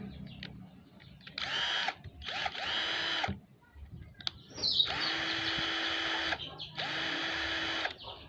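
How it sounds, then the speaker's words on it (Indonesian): A 12V cordless drill whirs in several bursts, starting and stopping with variable-speed trigger changes, while birds chirp faintly in the background. "yang saya suka dari bor ini, ketika ditekan triggernya, putarannya dia udah variable speed"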